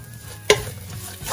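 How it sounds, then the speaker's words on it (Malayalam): Grated coconut dry-roasting in a hot uruli for aval vilayichathu: a single sharp scrape of a stirring spoon, then a soft, steady crackle from the pan. "ഇനി നമുക്ക് ഈ തേങ്ങ ഒന്ന് നന്നായിട്ട് ഒന്ന് വറുത്ത് പോരണം"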